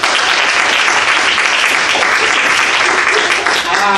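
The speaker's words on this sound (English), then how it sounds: "Give a round of applause." A student audience at an improv comedy showcase applauds steadily and loudly, a dense continuous wash of clapping hands that fills the whole stretch without a break.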